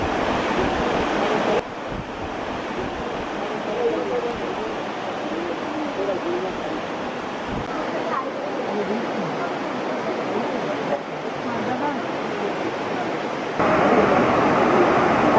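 Abbi Falls waterfall in Coorg, Karnataka roars as a steady, loud broadband rush of falling water throughout, with wind buffeting the microphone.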